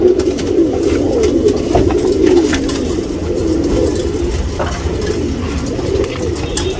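Top-class female tournament pigeons in Bangalore coo steadily and close by in a continuous low, throaty rumble with faint background noise and no speech.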